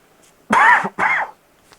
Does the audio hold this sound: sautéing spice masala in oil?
no